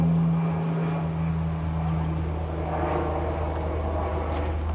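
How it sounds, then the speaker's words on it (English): A steady low engine drone of an airplane passing overhead, continuous and fairly loud throughout, with faint background noise and no talking. "we got airplanes overhead"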